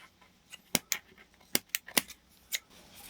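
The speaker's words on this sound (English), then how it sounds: "I'm just trying to see if we can do it with these scissors here." Scissors snip at old boat line aboard a sailboat, giving several sharp, close, crisp cuts at irregular intervals against a quiet background.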